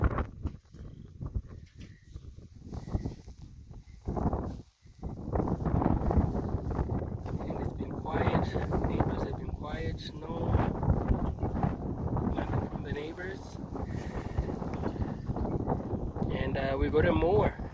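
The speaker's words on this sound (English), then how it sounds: "Kind of windy day again today." Strong wind buffeting the microphone outdoors on a spring construction site, a rough low roar that gusts under someone talking throughout.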